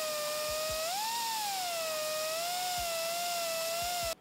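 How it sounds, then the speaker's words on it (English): A power tool grinds down the gear shifter of an RM250 dirt bike, giving a high, steady motor whine that wavers slightly in pitch, with a few soft knocks underneath, before cutting off abruptly. "So I ground down the shifter enough for the tip to fit."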